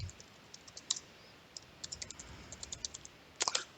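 Password being typed on a computer keyboard in a Linux terminal, with quiet, irregular key clicks in bursts of several strokes and short pauses, ending in a quick cluster of presses.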